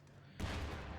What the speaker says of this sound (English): You can see there the explosion, so the infantry needs to retreat because it'll die to the high explosive shots.